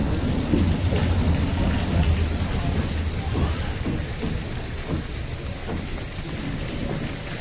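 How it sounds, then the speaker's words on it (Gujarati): Steady rain falls at Visavadar railway junction on the Junagadh–Sasan Gir–Delvada line, a dense, even hiss of drops close by that continues without a break. There is no talking. "વિસાવદર જંકશન ઝરમરથી થોડો વધારે વરસાદ ચાલુ છે"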